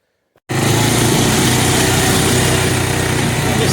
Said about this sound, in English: What a racket that trailer makes back there.